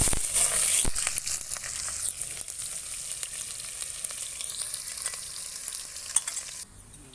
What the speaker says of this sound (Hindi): अभी हम गरम मसाला और प्याज ऐड करेंगे। तेल पक चुका है, सरसों का ऑयल जो है वो पक चुका है।